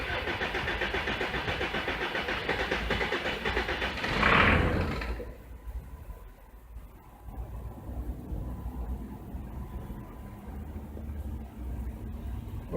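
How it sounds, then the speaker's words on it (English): A Jeep that cranks, runs and then stalls turns over with a steady, rough churning for about four seconds, catches with a brief louder burst, then settles into a quieter, lower engine sound. "I'm going to crank it and see what happens"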